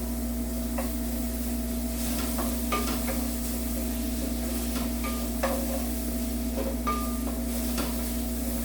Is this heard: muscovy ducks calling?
no